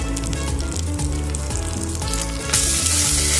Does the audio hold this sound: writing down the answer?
no